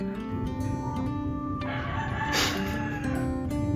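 A rooster crows once at sunrise in Bali, fairly close and loud, over a steady background hum.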